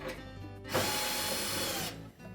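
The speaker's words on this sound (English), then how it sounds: "we'll want to remove these two screws that sit just below the lint filter housing" Power screwdriver backing out screws below the lint filter housing of an LG dryer, one short close whir lasting about a second between quieter handling noise.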